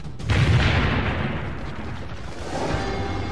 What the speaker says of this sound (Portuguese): Uns 5 segundos depois, a granada explode.